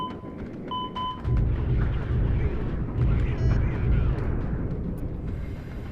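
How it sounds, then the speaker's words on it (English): A bomb bursts on a ground target in modded Kerbal Space Program, a deep rumbling boom that swells and holds for several seconds after a couple of short electronic beeps. "Let's go and bomb this target."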